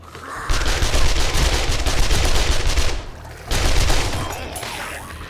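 Sustained submachine gun fire in the 7 Days to Die console game, loud rapid bursts in two long strings separated by a brief pause.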